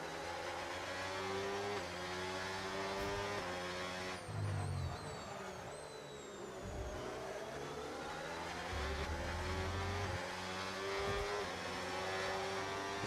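Race cars in a Spanish Grand Prix racing video game roar past continuously, high engine whines rising and falling as cars overtake back markers, with shifting pitch sweeps and a steady loud engine bed throughout.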